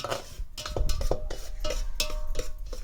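Semolina roasting and being stirred in ghee in a pan, a close run of scraping, clinking spoon-on-metal strokes at an uneven rhythm with no talking.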